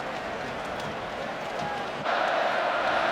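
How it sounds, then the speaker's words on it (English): A college football stadium crowd roars in a steady, dense wash, swelling louder partway through, with chanting of a player's name Melvin folded into the din; no distinct individual voices stand out. "Crowd chanting Melvin, Melvin."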